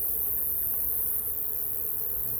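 Honey bees from a caught swarm hum inside a bee vacuum box, a steady dense drone with no breaks, close and constant throughout.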